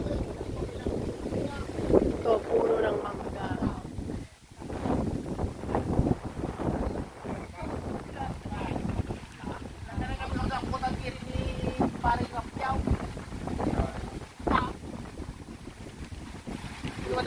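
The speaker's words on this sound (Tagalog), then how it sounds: "Ang hangin, mahangin dito." Wind buffets the microphone in rough gusts where corn is being ground and dried, with a person talking over the blustery rumble throughout.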